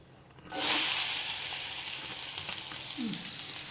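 Onions tipped into hot oil in a pan, bursting into a sudden loud hissing sizzle that then settles into a steady, slightly softer frying sound, with a brief faint voice near the end.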